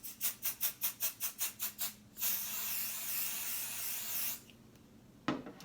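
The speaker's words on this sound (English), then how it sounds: "and you're going to spray" Spray adhesive from a can, shaken first with about ten rhythmic rattling strokes, then a steady close hiss for roughly two seconds as it mists onto quilt batting, ending with a short thud.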